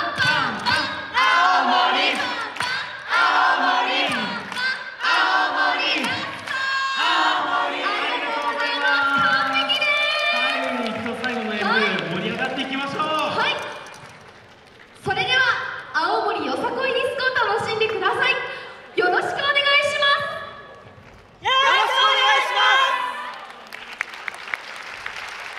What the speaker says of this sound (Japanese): 青森コールいきますよ。